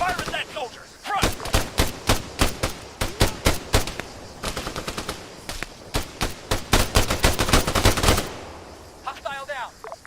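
Rapid rifle and machine-gun fire from soldiers in Arma 3, dense bursts of sharp shots for several seconds, loud and close, with radio-style voices before and after.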